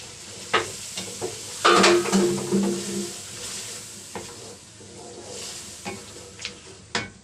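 Mutton karahi with yogurt stirred in, left to cook on low heat in a pan, gives a soft, steady sizzle with scattered utensil scrapes and taps, close and moderately loud, without talk.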